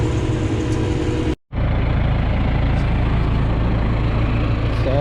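A Kubota M6132 tractor engine runs steadily during night wheat planting, a constant low diesel drone close by, briefly cut by a short dropout before the rumble resumes unchanged.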